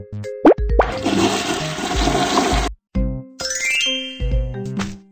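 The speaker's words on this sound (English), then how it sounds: "Flush the toilet after using the bathroom." Cartoon bathroom effects for a child's toilet lesson: a bright ding and plop, then a loud rushing toilet flush lasting a couple of seconds, followed by more chimes and tinkling tones.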